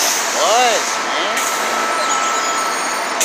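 City bus on route 103 idling with a steady engine rumble, a short rising-falling tonal whine near the start, and a voice talking over the noise.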